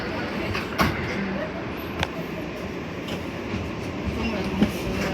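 A Bronx-bound R142A subway train on the NYC 4 line rumbles steadily from inside the car, with occasional metallic clanks from the rails and faint voices beneath the noise.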